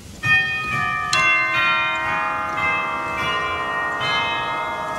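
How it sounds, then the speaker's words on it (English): The cathedral chimes stop of a Wurlitzer theatre organ at Turners strikes several bright, sustained bell tones. Each note rings on and overlaps the next, heard alone and close. "Cathedral chimes, no less."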